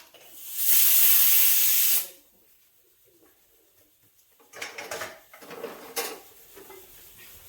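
A loud, sustained steam hiss from a pressure cooker whistle, cooking khichdi on a gas stove, lasts about a second and a half, then quiet, followed by clattering kitchen sounds.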